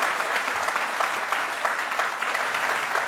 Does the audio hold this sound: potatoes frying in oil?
no